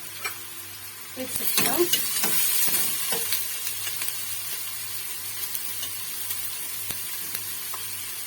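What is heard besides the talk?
onion frying in olive oil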